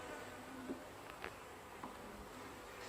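Honey bees buzz faintly around a Flow Hive hybrid outdoors, a soft drone with a few closer passes flying by, quiet and without talk.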